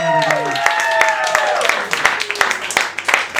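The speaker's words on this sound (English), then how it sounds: "Let's have a big round of applause for Mort." An open mic audience gives a round of applause for a performer: scattered, distinct claps under a host's voice that keeps talking throughout.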